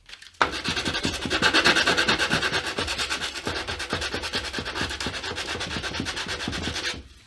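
Sandpaper held around a wooden guitar template is rubbed by hand in quick, steady back-and-forth strokes, close and continuous for about six seconds before stopping.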